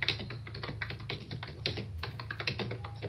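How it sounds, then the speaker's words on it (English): Typing on a computer keyboard makes a quick, irregular run of close, crisp key clicks and taps over a faint background hum. "Who's typing?"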